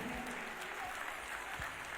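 Church congregation at a JCM gathering clapping to welcome an evangelist, a continuous, fairly distant wash of applause with a few low thumps, no clear speech over it.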